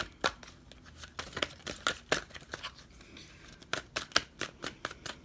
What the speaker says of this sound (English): let's keep on shuffling